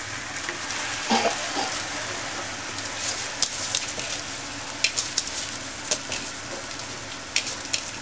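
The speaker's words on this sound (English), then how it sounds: "And we're going to add the rice to this." Jasmine rice fries in sofrito for arroz con gandules, giving a steady, close sizzle broken by occasional scraping stirs.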